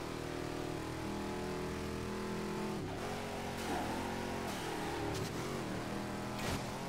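Engine roar of a street-racing car in the Midnight Club 3: DUB Edition Remix video game, a steady loud revving drone that dips and swells in pitch midway through as the nitrous boost kicks in, with no talking.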